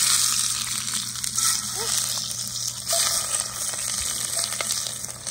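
Onions sauté in oil in a very hot pan on a truck camper stove, producing a continuous close sizzling hiss with faint clinks and a steady low hum underneath.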